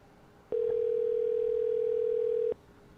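A steady single telephone tone holds for about two seconds before a voicemail greeting, loud and clean over faint background hiss, with sharp onset and cutoff.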